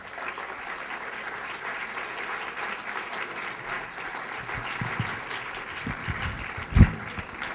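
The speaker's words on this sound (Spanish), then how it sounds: "Recibimos con un fuerte aplauso" Steady applause from an audience greeting Father Alejandro Solórzano at a conference on liberating education and Calasanzian pedagogy, an even wash of many hands with a few louder claps near the end.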